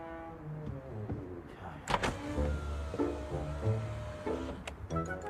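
A car's power window is lowered, a continuous electric motor whir that runs steadily for several seconds at close range, with no speech.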